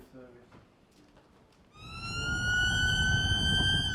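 An ambulance siren starts partway through, a loud steady wailing tone rising over road noise after a stretch of quieter sound, heard close as the vehicle responds to a call.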